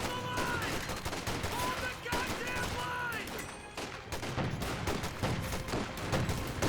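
Rounds fired at a tank in Company of Heroes 2, with overlapping bursts of rifle and machine-gun fire and a few heavier impacts. The firing runs as a busy, sustained barrage while a voice speaks over it.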